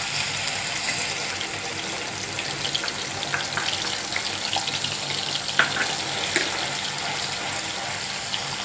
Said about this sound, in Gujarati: હવે તેમાં પહેલે ડુંગળીની ગ્રેવી એડ કરીશું.